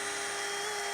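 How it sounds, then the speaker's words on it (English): A drill boring a small hole in the plastic cap of a 10W-30 oil bottle, a continuous high-pitched whine lasting about a second, close and loud. "I'm just going to drill a small hole"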